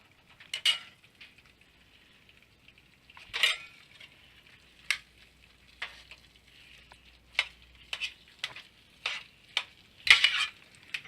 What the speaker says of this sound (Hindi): यहाँ मैं मावे को मिक्स करने के लिए अच्छे से विस्क का यूज़ कर रही हूँ